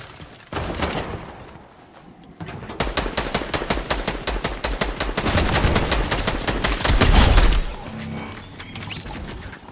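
Rapid automatic gunfire in a battle royale video game, long loud bursts of shots in fast rhythm with short pauses between them, growing heavier toward the end before cutting off.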